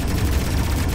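Rapid gunfire in the video game Ghostrunner 2, a dense, loud burst of overlapping shots filling the whole second with no pauses and no talking.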